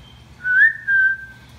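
A person whistles to a pet parakeet: two clear, sustained whistled notes that rise and then hold steady, close and alone with no talking.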